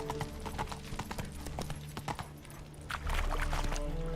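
Horse hooves galloping in The Witcher 3 video game, a quick, uneven clip-clop that is close and fairly loud, with a low rumble joining near the end and no talk.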